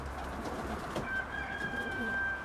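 Domestic pigeons coo softly inside a loft during molting season, a faint low murmur of calls over steady background hiss, with a thin high whistle partway through.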